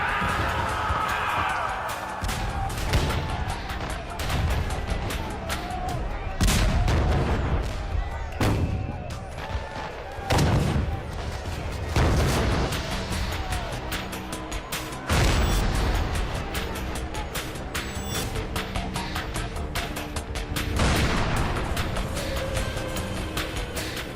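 Repeated gunfire and heavy booms from a battle at the Alamo, loud irregular blasts spaced a few seconds apart with rumbling echoes between them, and a voice talking at points.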